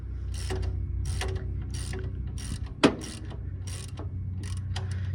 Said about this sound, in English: loosen this bottom tensioner bolt here, and then loosen this one on the top